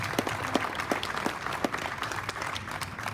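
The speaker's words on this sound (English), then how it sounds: "How about a round of applause for the 12th baby born?" Audience applause at a hospital's 65th anniversary celebration ceremony, a moderate crowd clapping steadily throughout with distinct individual claps standing out, no talking.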